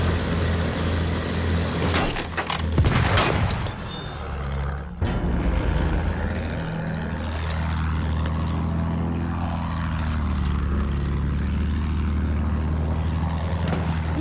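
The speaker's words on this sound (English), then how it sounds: "Look up, bomber!" An enemy bomber plane in Battlefield 1 drones overhead with a steady propeller engine roar for the whole stretch, swelling and shifting in pitch as it passes, with a few sharp bangs early on.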